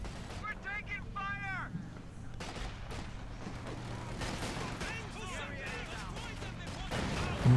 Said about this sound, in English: White phosphorus doing a lot of damage to that squad of Grenadiers